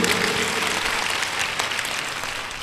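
An audience applauds for a girl at a satsang gathering, a steady, dense round of clapping lasting throughout with no voices over it.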